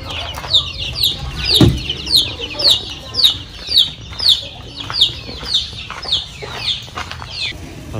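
Orpington chicks and chickens on a poultry farm, with rapid high peeping repeating steadily over soft clucking nearby. A voice talks briefly at the start.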